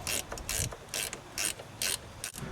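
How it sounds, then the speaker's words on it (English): A 10mm ratcheting wrench tightening a bolt on a 2001 Dodge Caravan Sport strut, close, quiet bursts of rapid ratchet clicking with short pauses between strokes. "we'll take the 10mm ratcheting wrench and we'll tighten that back down"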